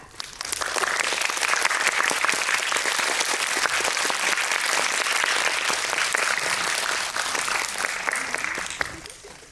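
A large audience at a film screening talk show for the Whiplash 10th anniversary bursts into loud, sustained applause welcoming a guest, a dense, even roar of clapping that fades out at the end.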